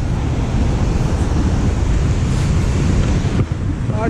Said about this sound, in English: the waves here are too dangerous.